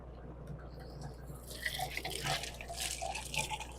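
Water splashes and trickles close by as a sample container is rinsed during tilapia biofloc farming, with soft irregular splashes over a low steady hum.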